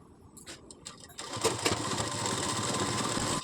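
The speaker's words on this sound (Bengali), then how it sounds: "এবার এর উপর দিয়ে আমি সেলাই চালিয়ে দিচ্ছি।" A sewing machine runs over stretched elastic on a salwar, starting with a few short clicks and bursts before settling into a continuous, loud mechanical whirr of stitching, with no voices.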